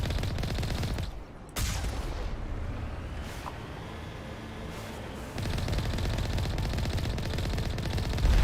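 Turret gunfire in Mass Effect Legendary Edition, a dense, continuous roar of rapid shots with a brief dip early on, then a louder, sustained barrage resuming toward the end.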